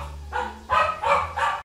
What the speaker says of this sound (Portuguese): O cachorro tá latido.